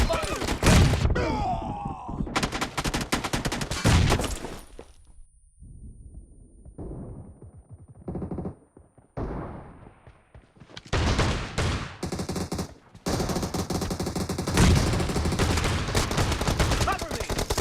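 Gunfire in a shooting video game team deathmatch with shotguns: loud, dense bursts of shots and explosive blasts in several clusters, with quieter gaps between, mixed with game effects and brief voice callouts.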